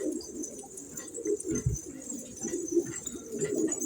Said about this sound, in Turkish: küçücük kuş ha